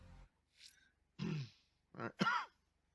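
A person gives a few quiet, rough coughs and throat-clearing grunts, spaced out with short silences between them.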